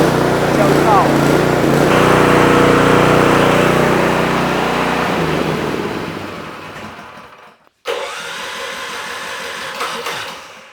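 Predator small gasoline engine started on choke, running loud and steady for several seconds, then fading and cutting out briefly before a rough, uneven idle picks back up.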